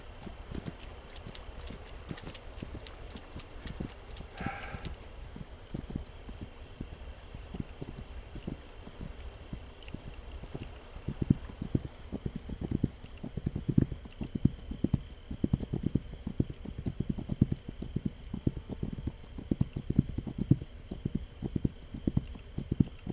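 Horse hooves clip-clop in a video game, a soft, steady walking rhythm that grows louder and denser about halfway through over faint wind, with no talking.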